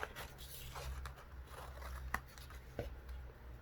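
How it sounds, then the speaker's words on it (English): Big scissors cut a paper rectangle with a few crisp snips and rustling paper, close and fairly quiet, with sharper single cuts standing out toward the end and no speech. "and I'm going to cut out my rectangle"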